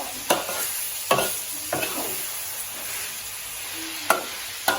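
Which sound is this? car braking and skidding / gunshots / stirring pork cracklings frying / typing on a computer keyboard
stirring pork cracklings frying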